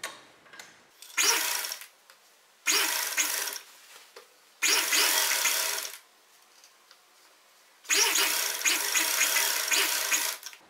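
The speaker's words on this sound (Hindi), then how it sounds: "अब हम इस पर सिलाई लगा लेंगे" A sewing machine stitches a kurti in four loud bursts of rapid mechanical whirring, each lasting one to two seconds, separated by quiet pauses.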